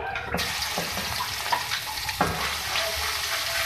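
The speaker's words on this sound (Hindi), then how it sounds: "पहले आपने जिंजर गार्लिक को फ्राई करना है" Ginger garlic paste sizzles and fries in a hot pan with a steady crackling hiss, with a few soft clinks of stirring, close and fairly loud.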